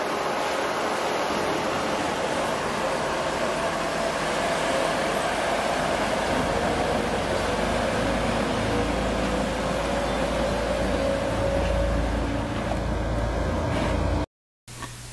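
A GE 50-ton diesel locomotive pulling a couple of cabooses rumbles steadily with a low engine drone and continuous rolling noise, loud and close, before cutting off abruptly near the end.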